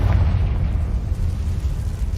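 A Confringo blast in Hogwarts Legacy bursts out as a loud, deep, rumbling boom that rolls on for a couple of seconds without fading much, with no voices over it.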